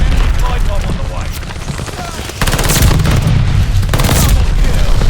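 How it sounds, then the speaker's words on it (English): Bombs burst one after another in a video game battle: heavy booms and crackling blasts, loud and close, with a fresh burst of low rumble partway through and game voices mixed in. "Enemy bomb on the way."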